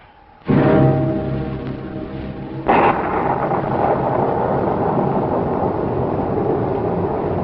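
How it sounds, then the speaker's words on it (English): A sudden roaring burst of wind-like rumble, then a second surge that settles into a steady, loud, broadband howl with no voices. "The wind's ripping everything apart."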